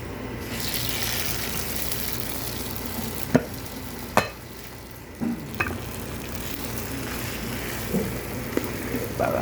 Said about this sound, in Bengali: এই এখন বাগার দেবো আমরা।